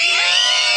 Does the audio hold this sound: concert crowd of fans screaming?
yes